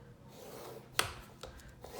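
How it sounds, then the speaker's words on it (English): Paper scored along a scoreboard at half-inch marks for a pet-themed mini album, giving a single sharp rasping stroke near the middle with a couple of faint scrapes after, close and quiet. "I'm going to score at each 1/2 inch, just like this"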